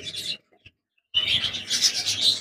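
Tara Girebaz pigeons in a large loft flock make bird calls, bright chirping bursts close by, broken by a second of near silence before the calling resumes.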